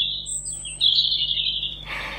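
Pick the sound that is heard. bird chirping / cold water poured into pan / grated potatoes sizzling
bird chirping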